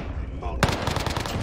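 Owen submachine gun firing in a battle royale video game, a sharp onset followed by a rapid burst of loud, closely spaced shots over a low background rumble.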